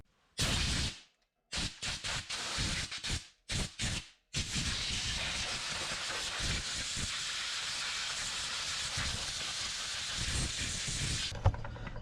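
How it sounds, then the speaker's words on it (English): Compressed air from a compressor blows dust off the brakes of a utility vehicle in a workshop, several short sharp hissing bursts followed by one long steady close blast that cuts off near the end. "let's blow this off good. Let me get the compressor, get the dusty dews and stuff out"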